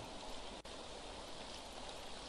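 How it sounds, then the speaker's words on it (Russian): Heavy rain pours steadily in the graveyard of the video game Fault - Milestone One, a dense, even hiss with no talk, broken only by one very brief dropout. "Не прошло и пяти минут, а моросящий дождь превратился в ливень."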